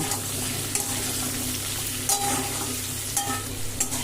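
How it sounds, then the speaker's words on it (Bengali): Chopped onions, two large ones, frying in a pan with spice and potatoes, give a steady close sizzle with a few stirring scrapes and clinks throughout. "দুটো বড় সাইজের পেঁয়াজ কুচি পেঁয়াজটা ভেজে নেব"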